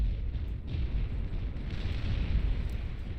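Artillery units fire in the real-time strategy game Beyond All Reason during an 8v8 match, producing a dense continuous rumble of overlapping booms and blasts, loud throughout with no pause and no talking.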